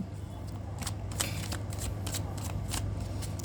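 A deck of divination cards is shuffled by hand in quick riffling bursts, close and crisp, with soft papery flutters repeating over a faint low background hum.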